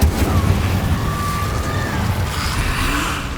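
Incendio fire spell cast in Hogwarts Legacy, a loud rumbling burst of flame with booming, crackling texture that roars steadily for about three seconds before easing slightly.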